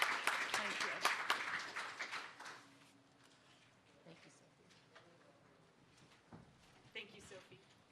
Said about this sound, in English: join me in giving a round of applause to our team here